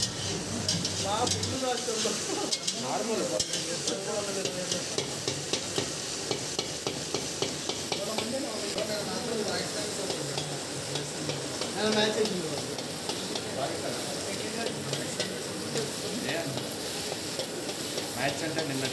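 Chicken pieces stirred and frying in a pan for a hostel-style chicken gravy, a steady sizzle with scraping stir strokes throughout, with faint voices mixed in underneath.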